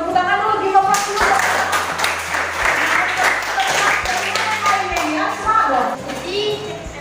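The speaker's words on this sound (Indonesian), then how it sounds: "Tepuk tangan dulu, give a clap dulu." A classroom of children clapping together during a lesson, a burst of applause mixed with chatter and young voices.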